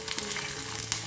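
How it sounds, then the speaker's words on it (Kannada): White sesame seeds and curry leaves splutter in hot oil for a tempering, a dense, close crackling sizzle with scattered sharp pops through the whole brief moment. "ಎಳ್ಳು ಹಾಕಿದ ನಂತರ ತುಂಬ ಬೇಗ ಸಿಡಿಯುತ್ತೆ"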